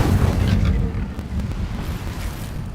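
A fire spell cast in the video game Hogwarts Legacy: a loud, dense low rumbling burst at the start that settles into a continuous crackling, roaring blaze for a few seconds, with no talk.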